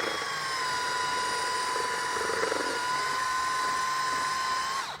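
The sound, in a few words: mixer blades breaking up lumps in hide paste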